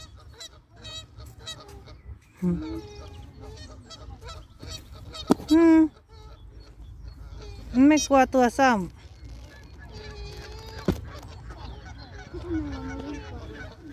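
Geese honk in loud bursts of several nasal calls in a park in Paris, with someone talking between them and a few sharp clicks.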